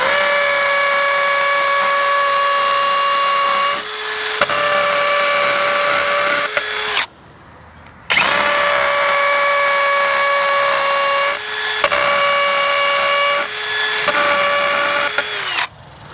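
Power drill boring into very soft bricks while bolting down an outdoor HVAC condenser: two long, loud whining bursts with a steady motor tone, each dipping mid-run as the bit bites, separated by a short pause.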